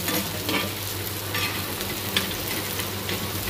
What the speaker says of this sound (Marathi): आता त्या तव्यामध्ये एक कांदा, थोडंसं तेल टाकून छान सोनेरी रंगावर तळून घ्यायचा आहे।